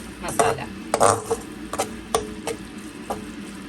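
Masala for chicken kurma being mashed and mixed in a pot, a series of sharp utensil scrapes and knocks against the vessel in an uneven rhythm, close and fairly loud.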